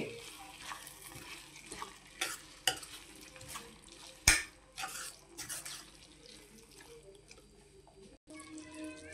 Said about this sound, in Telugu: ఈ మసాలా మిక్స్ చేసుకుందామండి.